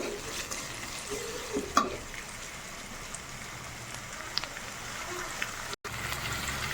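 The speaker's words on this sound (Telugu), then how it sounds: "ఆనియన్స్ బాగా ఫ్రై అవుతాయి అన్నమాట సో అందుకని సో తగిన ఉప్పు వేసుకొని కొంచెం కలిపేసుకున్నాం" Onions sizzling in a pan for a bean and tomato curry, a steady soft crackle with a few scraping stirs, moderately quiet, with no talking.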